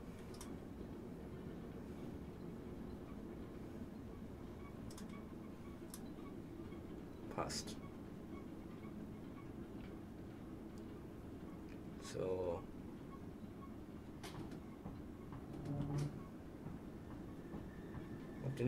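A train in Train Simulator 2021 rolling and braking: a steady low rumble runs throughout, with a few brief clanks and squeal-like tones near the end. Someone talks over it.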